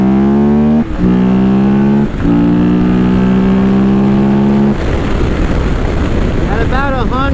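KTM 1190 motorcycle on off-road tires pulling hard through the gears, engine rising steadily in pitch with two quick shift breaks, then giving way to loud wind rush at high speed; no talk.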